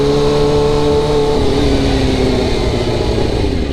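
A motorcycle engine idles loudly and steadily up close, holding a droning tone throughout with a slight dip in pitch as it is put into first gear, no voices over it.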